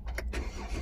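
A 2010 Jeep Wrangler with the 3.8L engine runs steadily at idle, a low, even rumble heard close for under a second with no voices.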